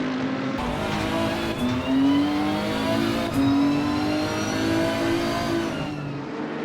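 GT race cars, including Bentleys and a Mercedes, roar in a sim racing game, engines revving high and shifting through gears as they run close together, a steady loud drone with rising whines and no talk.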